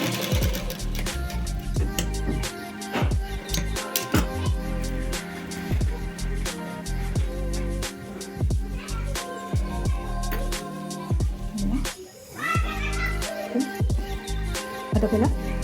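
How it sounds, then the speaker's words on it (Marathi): An electric sewing machine stitches a fabric bow for a blouse, its needle rattling in a fast, steady mechanical rhythm, close and loud, with a brief pause before it runs on again. "बरोबर असं ठेवून शिलाई मारून घ्यायची."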